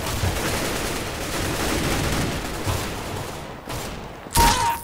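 Sustained gunfire in a shooter video game, a dense rapid volley of shots running continuously with a brief lull near the end before a sharp loud burst.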